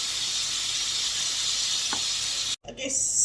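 Fillet steak frying in a pan gives a steady, loud sizzle that runs unbroken, then cuts off sharply near the end before a brief clatter and the sizzle returns.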